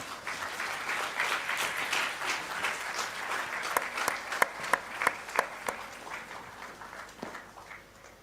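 A crowd applauds steadily at a conference inaugural session in Raipur, India, a continuous wash of clapping with a few sharper, louder claps standing out near the middle.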